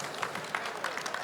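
An audience at a market-opportunities workshop applauds two speakers, a fairly faint patter of many clapping hands with scattered sharper claps.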